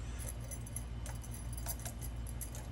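Metal keys jangle and clink continuously while being unpacked from a stock order, with small bright rattles over a steady low background hum.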